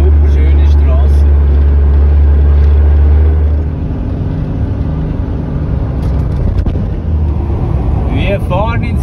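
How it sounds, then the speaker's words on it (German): A camper van engine braking downhill in second gear on a steep road, a steady loud low drone with the engine note dropping partway through, while people talk over it. "Krass, wie es runter geht, zweiter Gang. Motorbremse reicht nicht."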